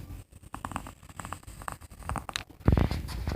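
Air drawn through a Wotofo STNG MTL RDA vape atomizer makes soft, faint wet gurgles and crackles in short bursts, with a louder rush of airflow toward the end.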